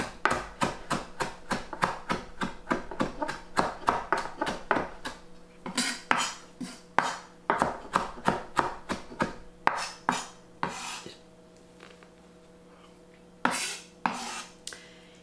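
Dense bean salad being scooped into a larger bowl: quick rapid clinks of a utensil against the bowl, then slower spaced knocks and a few scrapes, close and fairly quiet, with no talk.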